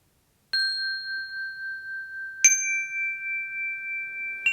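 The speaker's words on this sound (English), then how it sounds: "In this meditation, we'll begin and end with the chime." A meditation chime is struck three times at even intervals, each clear bell tone ringing out and sustaining between strikes in an otherwise quiet room.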